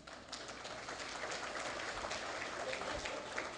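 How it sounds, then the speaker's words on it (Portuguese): Applause from the audience at a public debate on PostgreSQL use in government agencies, a dense, even patter of many hands clapping at moderate distance, sustained for several seconds without a break. "uma salva de palmas."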